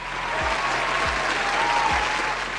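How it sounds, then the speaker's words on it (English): Audience applause, a dense continuous roar of clapping from a crowd, loud and steady, with a few low thumps and a faint whistle-like tone mixed in. "Dima, give him a round of applause"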